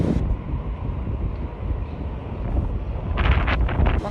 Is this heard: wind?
yes